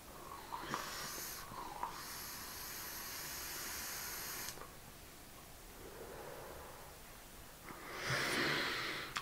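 A blackberry and blueberry e-cigarette liquid with a 50-50 mix is vaped, giving a long airy hiss of drawn breath and exhaled vapour, then a quieter pause and a second breathy puff, close and alone.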